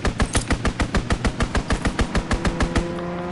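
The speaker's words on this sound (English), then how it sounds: "Fighter aircraft ready. Call for a strafing run." A fighter aircraft's strafing run in Call of Duty WW2 fires as a fast, evenly spaced stream of heavy gun reports, loud and close, that rattles on for about three seconds before cutting off.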